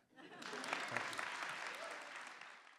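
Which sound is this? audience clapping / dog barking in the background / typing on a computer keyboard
audience clapping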